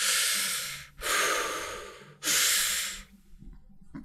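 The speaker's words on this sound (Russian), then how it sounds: "нужно дышать э, учащенно, как в холотропе, но как-то мягче, вот так." Rapid, soft rebirthing-style breathwork, a single person breathing fast in three long, loud, airy bursts of quick inhales and exhales with short pauses between them, close to the microphone and alone.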